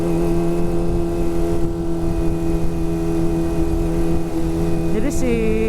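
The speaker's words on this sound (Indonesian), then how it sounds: "Suara knalpotnya, headernya nih agak bocor." A Kawasaki ZX25R motorcycle idles with a steady, even exhaust drone from a header that leaks slightly, heard up close and continuous, with a brief blip of revs near the end.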